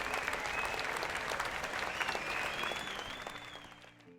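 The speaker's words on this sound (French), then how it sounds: "puis tout le monde applaudit" A crowd in a kingdom bursts into steady, dense applause that holds strong for several seconds and then tapers off toward the end, with no voices over it.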